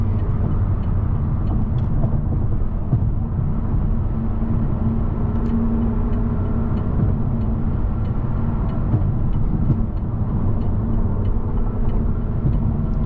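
A tuned BMW M550i engine of over 700 hp rumbles and idles at a steady, loud level with a deep, throaty tone and no clear rev peaks.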